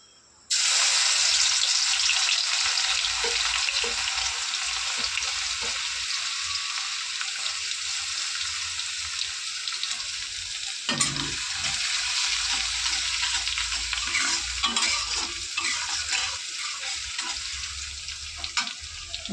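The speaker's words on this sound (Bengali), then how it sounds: "দেখো রসুনটা ভাজা ভাজা হয়ে গেছে।" Crushed garlic frying in oil with nigella seeds and dried chili starts abruptly into a loud, even sizzle that carries on for the whole stretch, with occasional spatters and stirring knocks.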